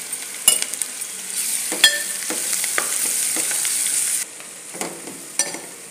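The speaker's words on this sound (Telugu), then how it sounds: "ఒక 2 నిమిషాలు ఇట్లా వేయించుకున్నామండి ఆయిల్లో" Ponnaganti greens frying in oil with green chillies, onions, ginger paste and turmeric, a close, even sizzle punctuated by several clicking spatula strokes against the pan before it quiets slightly.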